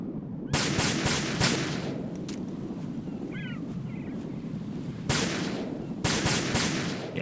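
Short rapid bursts of gunfire from the player's weapon in Metal Gear Solid 2: Sons of Liberty, two clusters of sharp shots separated by a windy, breezy lull, fairly loud and close.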